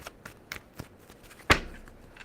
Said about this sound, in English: Give me 2 shuffles, please, and thank you.